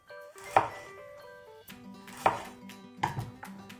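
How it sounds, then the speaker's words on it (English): A knife chops a carrot into thin slices for an okra and carrot stir fry, three distinct sharp cuts landing on a cutting board at an unhurried pace, close and clear with soft background music. "when you cut your slices, you need to make sure that they are as thin as possible"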